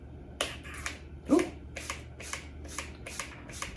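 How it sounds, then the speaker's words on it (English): Non-aerosol hairspray pump misting onto dried roses, a series of short close hissing sprays in a loose rhythm, with one brief voiced exclamation among them. "it's not an aerosol, but it does mist kind of nicely"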